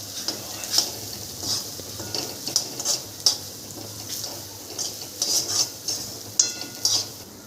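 A spoon scrapes and clinks against a metal pan in irregular stirring strokes, mixing red chilli powder and spices, with a faint sizzle underneath and no talking.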